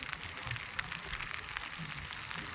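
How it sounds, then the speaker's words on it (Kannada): Heavy rain falls at Male Mahadeshwara Betta hill, a faint, even patter of drops on surfaces with no voices, steady across the short stretch. "ತುಂಬ ಚೆನ್ನಾಗಿ ಬಹಳ ಅಚ್ಚುಕಟ್ಟಾಗಿ ಮಳೆ ಆಗ್ತಾ ಇದೆ"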